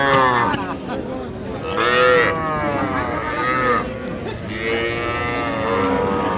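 Young bull and heifer calves mooing at a rural cattle market in Bangladesh, a steady run of loud, close bellows overlapping one another with faint crowd murmur behind.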